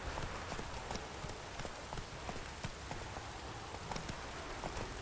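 Roach, a horse in The Witcher 3, galloping across ground with rain falling, giving a steady run of soft hoof thuds under a continuous wet patter of rain.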